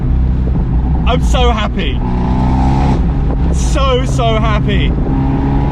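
Remapped Abarth 124 Spider engine pulling hard in third gear, a steady loud drone under the whole stretch while someone talks excitedly over it.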